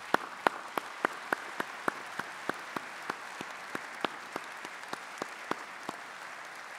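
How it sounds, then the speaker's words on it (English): Graduates at a university graduation ceremony clap in thanks for the academic and professional staff, a steady run of distinct, evenly spaced claps sounding fairly faint and sparse across the hall, with no talk. "Graduates, would you please join me in a round of applause to say thank you."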